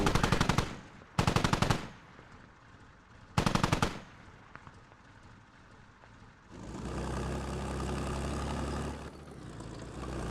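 Heavy machine-gun bursts in the military shooter Squad, three loud, sharp rattling volleys close by, separated by quieter gaps, followed by a sustained low engine-like rumble that swells and lingers.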